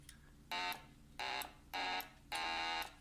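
A synthesizer sounds four bright, buzzy beeping tones in an uneven rhythm, each lasting a fraction of a second, over a faint low hum.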